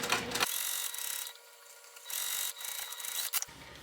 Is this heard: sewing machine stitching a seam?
yes